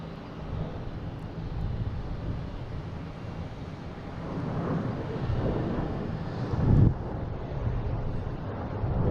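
A plane on final approach to Boston Logan Airport, heard as a steady distant engine rumble with wind buffeting the microphone and a brief louder swell near the end.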